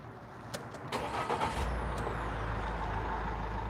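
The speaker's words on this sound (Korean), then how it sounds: "시동을 걸면" An Iveco Daily-based campervan engine cranking and catching, with a couple of short mechanical clicks before it settles into a steady low diesel idle, heard close and alone.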